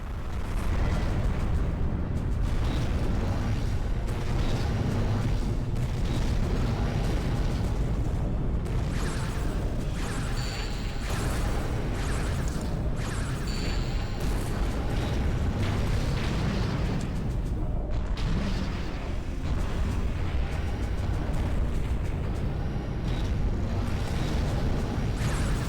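Rocket punch blasts from the robot Ravel in the game R.A.D., a dense run of loud booming explosions and crackling bursts that continues almost without pause.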